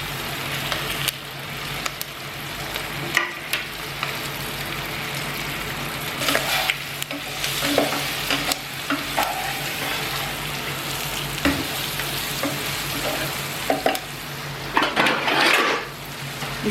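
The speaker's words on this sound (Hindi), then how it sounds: "अब फटाफट भिंडी को तल डाल देते" Stuffed okra (bhindi) fries in a pan with a sprinkle of ajwain, giving a continuous crackling sizzle broken by occasional clatters of utensils against the pan, moderately loud and close, with no talking.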